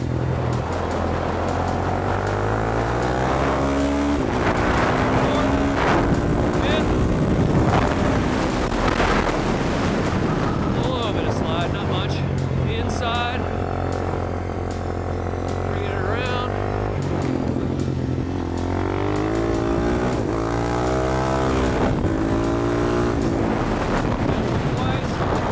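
Supermoto motorcycle engine at full race pace around Adams Motorsports Park, loud and constant with rising and falling revs through gear changes under heavy wind buffeting, with a rider talking over it.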